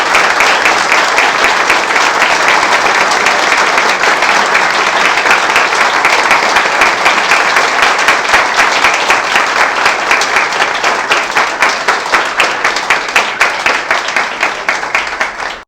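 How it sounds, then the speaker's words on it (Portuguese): Long, loud applause from a room of guests at a club's 25th-anniversary celebration, steady for many seconds and then settling into slower, more distinct rhythmic claps near the end. "uma salva de palmas para"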